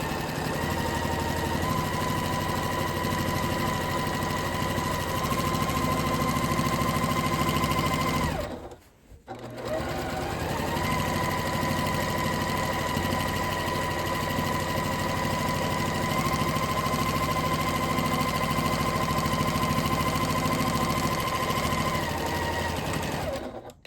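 A sewing machine fitted with a walking foot runs steadily while quilting wavy lines, a close, continuous mechanical whir with a brief pause partway through before stitching resumes.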